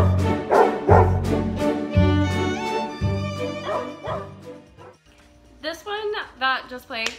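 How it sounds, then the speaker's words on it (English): A dog yips, barks and whimpers in a short series of high, sharp calls, heard from a playing photo slideshow alongside music. "that just played, obviously, is my dog Buddy."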